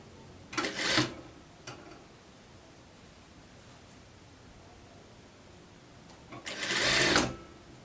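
A sewing machine stitching fabric in a beginner sewing session: two short, close bursts of whirring stitching separated by a few seconds of quiet.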